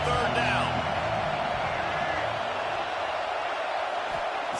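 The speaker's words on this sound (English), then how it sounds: "Decibels rising as the crowd gets behind this defense on third down." A stadium crowd in a college football video game roars steadily on a third-down defensive stand, a dense, sustained wash of cheering and whoops heard from the field level with a faint voice mixed in.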